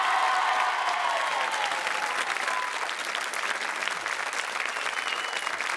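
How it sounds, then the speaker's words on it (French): A television studio audience bursts into sustained applause on cue, dense even clapping that carries on for several seconds without talk. "Donc 1, 2, 3, applaudissements pour Michel!"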